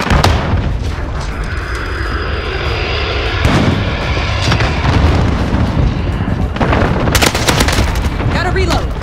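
A VTOL aircraft in Modern Warfare roars overhead in a Team Deathmatch on Khandor Hideout, with a loud, steady engine drone mixed with booms and scattered gunfire.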